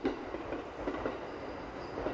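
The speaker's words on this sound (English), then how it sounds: "I feel like this train will never stop" Video game train running on rails at night, a steady rumbling roll with faint clicking wheel beats, fairly quiet and continuous with no voices.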